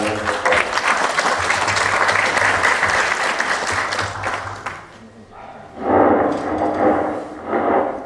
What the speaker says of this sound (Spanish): Un aplauso para nuestro pueblo